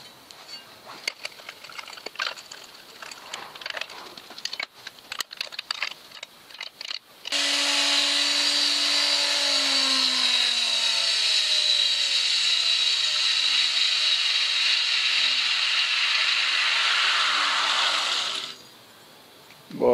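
A homemade belt grinder runs steadily on steel, a loud continuous grinding whine that holds for about ten seconds and then cuts off, after some scattered clanks and handling noises.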